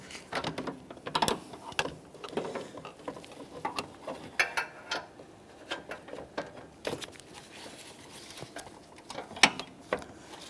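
A ratchet with a 12mm swivel socket and several extensions loosens EGR tube mounting hardware on a 2012-2015 Honda Civic, giving a run of small, close clicking and metallic ticks in irregular bursts.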